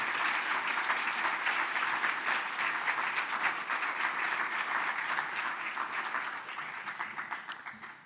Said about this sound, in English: recognize them with a great round of applause